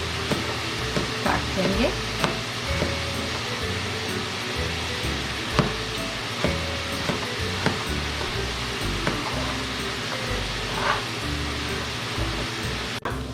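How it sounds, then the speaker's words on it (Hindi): Onions sauté in a pan with a continuous low sizzle and frequent spoon scrapes and stirring knocks, while a person speaks briefly over the cooking. "जब तक हमारी प्याज सौते हो रही है"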